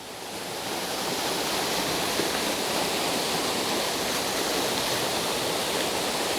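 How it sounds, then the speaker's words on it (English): A waterfall running with melting ice in a mountain setting gives off a loud, steady, broadband roar, continuous and close, with no voices. "But again, look how gorgeous this waterfall is"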